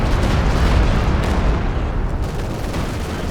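Game artillery shells burst in Company of Heroes 2, a loud rumbling barrage of explosions with heavy low booms that fade slightly toward the end.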